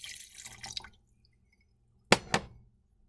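Water poured from a container into a mug holding dry macaroni, with a soft splashing stretch early on, a pause, then two short, sharp pours close by.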